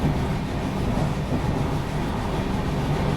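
An Indian express train, the Paschim Express, drawing alongside and overtaking another moving train: a dense, steady roar of wheels and rushing air heard from on board, loud and continuous with faint clatter and no voices.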